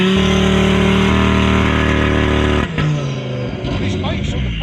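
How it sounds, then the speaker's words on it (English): A modified Audi RS3 rated at 1100 brake horsepower holds a loud, close high rev at a drag racing event, then drops off sharply to a rougher idle and crowd noise, with speech around it. "That RS3 is 1100 brake horsepower. You can hear that."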